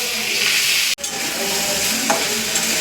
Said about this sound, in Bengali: এবার আমি ভালো করে মুগ ডালটাকে ভেজে নেবো